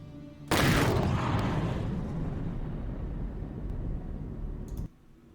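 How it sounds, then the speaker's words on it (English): Massive explosion from a played video bursts suddenly with a sharp blast, then rolls into a long, loud rumbling roar that fades slowly over several seconds before cutting off. "Largest accidental explosion."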